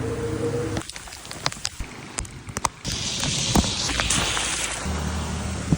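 Rain falls outdoors while someone runs through it, a dense broadband patter with scattered splashy footfalls and thumps, close and fairly loud throughout.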